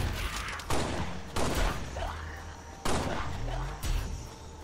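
Rapid SMG bursts in Halo: Spartan Strike, four loud clusters of automatic fire spaced about a second apart, with game effects sweeping between them and no talking.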